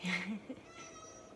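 A pet cat gives a short meow, a bright rising cry up close, followed by quieter room noise with faint voice traces.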